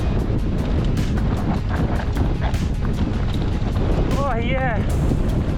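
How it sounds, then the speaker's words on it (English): Strong gusting wind roars steadily over the microphone during a fast mountain bike descent in Exmouth, Western Australia, with a voice briefly rising through the rumble near the end. "that wind is scary"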